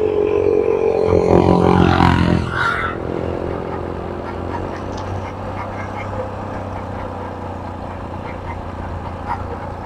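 Duck-like bird calls near a Honda CRF150L riding spot in Pal-ew, a short burst of loud quacking honks in the first few seconds, then a quiet outdoor background hum.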